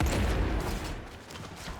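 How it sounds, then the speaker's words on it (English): An explosion in the video game Warframe, a loud boom with a rolling low rumble that fades over about two seconds, with no talk over it. "Oh, that was cool, having the explosion come out like that."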